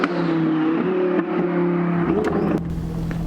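A Lamborghini with a loud engine drives along, steady and close, with one shift in pitch near the end as the engine note settles lower.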